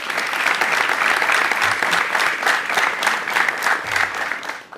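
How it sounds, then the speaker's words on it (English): Steady audience applause at a New York City mayoral announcement on bike safety, dense close clapping that runs throughout and tapers off at the end. "Let's give them a round of applause for their advocacy."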